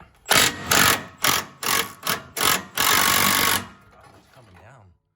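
A small Milwaukee Fuel power tool loosening a bolt on a junk Dodge Ram, several short loud impact bursts followed by one longer run, then it stops and a faint voice murmurs.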